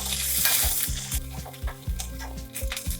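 Coconut and chillies dry-roast in a pan, with a loud hissing rush at first and then repeated rhythmic scrapes and knocks of a spatula stirring the mixture close up.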